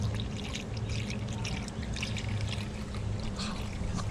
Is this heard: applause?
no